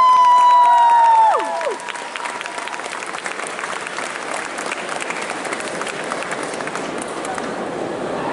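Audience applause for a cosplay contestant at a regional cosplay competition at a convention: dense, sustained clapping from a large crowd, with a few cheers mixed in, running steadily after a spoken introduction ends.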